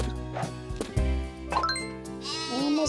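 A sheep being sheared gives a drawn-out, wavering bleat near the end, with faint tinkling and handling noises before it, close and fairly loud.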